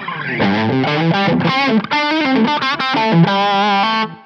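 Overdriven electric guitar chords and single notes from a Line 6 Helix amp modeler through a Powercab Plus ring out loud and crunchy, played steadily for a few seconds before stopping abruptly.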